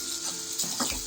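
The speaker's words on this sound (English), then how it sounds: "allow the shallots to get fried till they just kind of begin to turn golden brown in color" Shallots frying in hot oil for a Kerala-style chicken stew, a steady close sizzle with soft stirring scrapes and light bubbling, moderately quiet and without talk.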